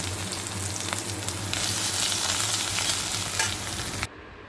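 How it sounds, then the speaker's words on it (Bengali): Ginger paste fries and is stirred in hot oil with two dried red chillies and bay leaves, giving a steady, loud sizzle with scraping stir strokes that ends abruptly. "আদাটাকে ভালো করে ভেজে নেব।"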